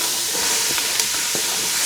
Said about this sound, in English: I just want to hear my vegetables sizzle